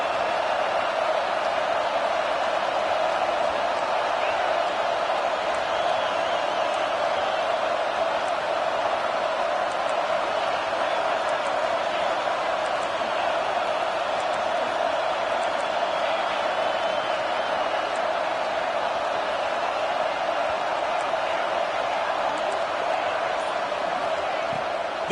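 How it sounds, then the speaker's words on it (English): A Michigan home football crowd roars as a steady, dense wall of noise that never lets up, loud throughout, with a commentator's voice faintly mixed in. "how nice is it to have the home crowd going absolutely bananas?"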